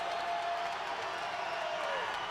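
A large crowd at a WCW wrestling arena event makes a continuous, moderately loud roar of cheering and murmuring with no clear breaks.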